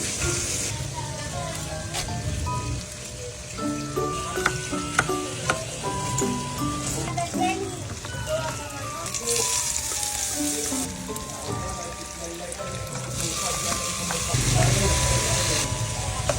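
Ulam cooking in a pan sizzles and fries continuously and loud throughout, with stirring clatter and background music.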